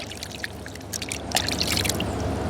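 Coconuts are washed under water, producing a soft continuous pouring and splashing that grows slightly louder toward the end, with no talking.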